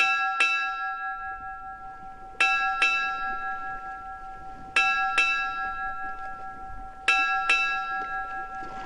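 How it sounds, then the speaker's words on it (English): A ship's bell rings eight strokes in four evenly spaced pairs, each double strike clear and bright and left to ring out between pairs. "Eight bells is heavenly sound."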